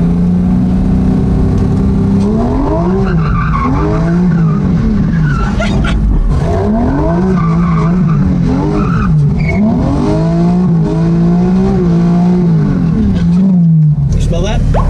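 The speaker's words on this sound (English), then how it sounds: "You can start the car and throw it in first all at the same time." A car engine revs hard and launches, its pitch rising and falling through gears with tire squeal and skidding, loud and close throughout, with voices talking over it.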